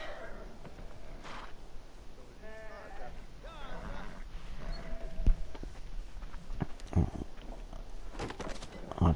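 A distressed horse in the game Beyond: Two Souls whinnies and snorts amid shuffling hooves and movement, the calls rising in bursts over a quiet outdoor backdrop with occasional thuds.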